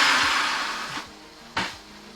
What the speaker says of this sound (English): 9 tablespoons of ginger paste in the blender with a bit of water to just turn it into a slurry